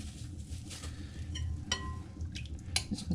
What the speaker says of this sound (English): we're going to just slowly drain it into this pan